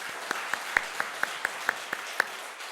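Congregation at a Sunday church service clapping in a slow, regular rhythm of about ten distinct claps, fairly soft and alone.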